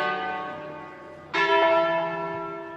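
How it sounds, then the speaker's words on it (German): Church wedding bells ring out, struck tones that decay slowly and then sound again louder, rich in sustained overtones, with no voices over them. "947 läuten in Pavia die Hochzeitsglocken."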